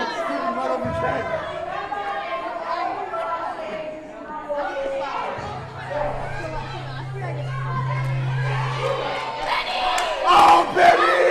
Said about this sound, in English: Scream right over Trent.